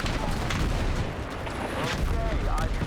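Dense Battlefield 6 gunfire and explosive booms fill a busy multiplayer battlefield, a constant loud wash of shots with voices mixed in underneath.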